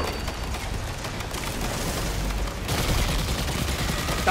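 Rapid gunfire and explosive booms from a Destiny 2 firefight fill the whole stretch, a steady dense barrage that grows a little louder near the end.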